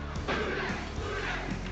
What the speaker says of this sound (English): the crowd saying, who that? Who that?